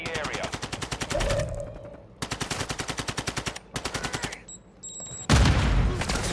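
Automatic gunfire in Call of Duty: Modern Warfare II, several rapid bursts of close, loud shots with short gaps between them and a heavier final blast near the end.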